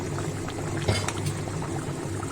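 A potato and pointed gourd curry simmering in a pot, a close steady bubbling with a brief stir or clatter in the middle, no voices.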